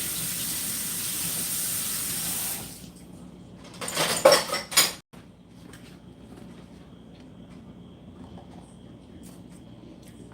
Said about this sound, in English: So let me just rinse this stuff off.